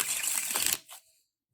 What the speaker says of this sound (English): it's a little bit easier to shuffle, especially being small.